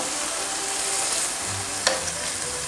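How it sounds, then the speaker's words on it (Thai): Minced pork stir-fried in a pan for Isan-style larb, a steady close sizzle of frying meat with a brief scrape of stirring partway through. "แล้วก็รวนหมูให้สุกในกระทะนะคะ"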